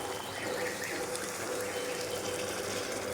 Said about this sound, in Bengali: এবার আমরা এর মধ্যে জল দিয়ে দেবো।